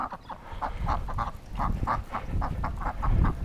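A duck quacks in a run of about a dozen nasal, honking calls, some paired and some single, at moderate loudness over a low background rumble.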